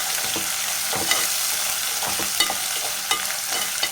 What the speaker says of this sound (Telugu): చిన్న సైజులో ఉన్న టమోటా ముక్కలను కూడా వేసేద్దాం ఇప్పుడు దీన్ని కూడా మంచిగా ఫ్రై చేసేద్దాం